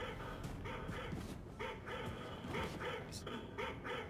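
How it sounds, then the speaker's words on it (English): A dog-like creature in the Wolfenstein II video game barks in repeated rhythmic bursts of yips and bow-wows, fairly close and steady over a constant background of game sound. "Sound like a frickin' dog."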